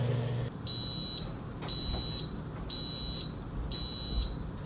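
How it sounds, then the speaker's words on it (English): Johnsonville Sizzling Sausage Grill cooking hot dogs gives four evenly spaced high electronic beeps, each about half a second long, over a low background hum, close and clear. "the machine just beeped, so that means these hot dogs are ready"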